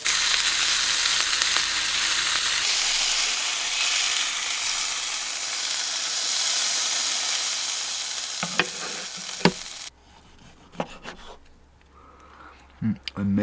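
A steak sizzles loudly in a frying pan inside a camper van, a dense continuous hiss for several seconds that abruptly stops, leaving quiet clinks and faint handling noises.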